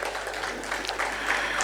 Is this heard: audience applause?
yes